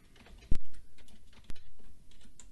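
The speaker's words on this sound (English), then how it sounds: "he's typing" Sparse computer keyboard typing in a podcast studio, with a few sharp, loud key strikes standing out over quieter scattered clicks, close by and without voices.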